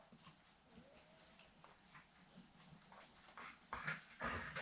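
A dog panting close by in a quiet room, a steady run of soft rapid breaths with a few louder huffs and shuffles near the end.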